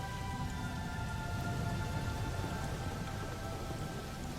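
Steady rain pours down, a dense continuous hiss of drops on surfaces with a low rumbling undertone, unbroken throughout and fairly close.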